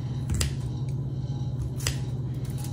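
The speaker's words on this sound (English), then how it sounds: "I could just do it with my scissors, honestly" Scissors snip slits into food being prepared for cooking in a home kitchen: two or three crisp, brief cuts spaced apart over a steady low hum, with no talking.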